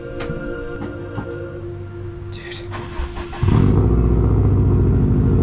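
A Subaru STi idles with a low, steady drone, then catches and rises sharply into a louder, fuller engine note partway through, staying strong and close to the end with no talking.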